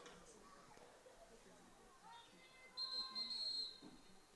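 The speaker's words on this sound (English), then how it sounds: "Whistle is blown." A referee's whistle at a girls' high school soccer game gives a short faint shrill blast after a brief earlier chirp, distant under crowd murmur and quiet talk.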